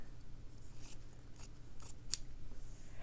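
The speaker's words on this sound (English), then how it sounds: "So I don't need very much fabric. I'll cut it to about here." Scissors snip through a small piece of fabric at a sewing table while wrapping rope for slow stitching, a few quiet, close, separate cuts spread across a few seconds.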